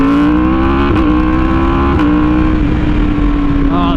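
Yamaha R1M sport motorcycle accelerating under throttle, a loud, steady engine drone held close throughout with small gear-change dips and the revs climbing and settling in pitch.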